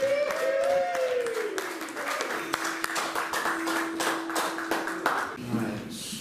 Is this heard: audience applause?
yes